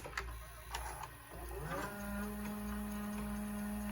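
A Panasonic VCR's noisy mechanism winds up rewinding a tape and settles into a steady, noisy motorized hum with a low drone, with a few clicks early on.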